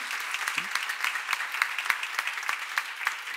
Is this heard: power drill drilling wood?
no